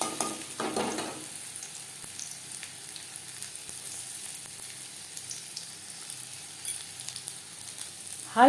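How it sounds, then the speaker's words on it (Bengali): Gram-flour-coated okra frying in oil over the flame, giving a steady, close sizzle with a louder bubbling burst near the start and no speech. "পরের ব্যাচের ভেন্ডি একইভাবে ভেজে নেব"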